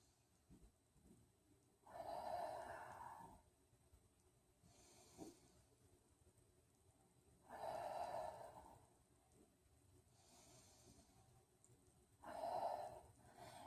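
Slow, deep breaths during a bedtime yoga session, three long airy inhales or exhales spaced about five seconds apart, soft and close, with quiet room hiss between them and no talking.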